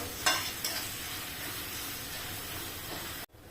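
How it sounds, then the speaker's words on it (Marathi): Finely chopped onion sizzles steadily as it is sautéed and stirred in a pan for a masala curry, with a soft continuous hiss, a few sharp spatters near the start and a brief cutoff near the end. "हे बघा इथे आहे ना कांदा छान परतला गेलेला आहे"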